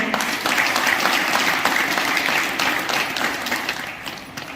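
An audience claps together at a yoga camp, a dense, steady round of applause that fills the full few seconds at even loudness.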